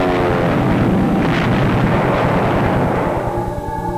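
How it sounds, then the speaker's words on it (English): Heavy bombers drop high explosives and incendiaries on the ancient Benedictine abbey of Monte Cassino, a loud continuous rumble of blasts and droning engines that stays dense throughout with no voices. "229 bombers dropped 453 tons of high explosive and incendiaries"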